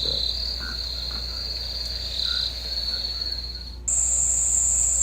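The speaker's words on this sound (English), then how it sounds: "You've probably noticed I had a cricket play in the background." Recorded cricket chirping plays in the background as a steady high trill, with frog-like croaks mixed in, then shifts to a louder, brighter chirp near the end; no speech.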